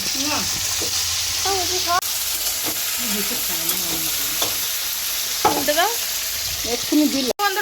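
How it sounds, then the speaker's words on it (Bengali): Fish cooks in a home kitchen pan with a steady sizzle and occasional scraping stirs, while people chat and exclaim over it. "অনেকদিন আর কি গোলা মাছ রান্না করছো"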